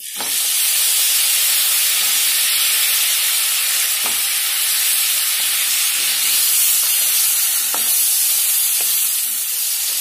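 Brinjal pieces fry alongside bombil in a pan, a loud continuous close sizzle with occasional stirring knocks, no voices.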